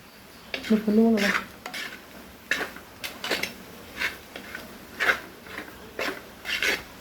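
A spoon scrapes and stirs through a thick chicken curry masala in a metal pot, producing repeated rhythmic swishes and soft clanks at close range.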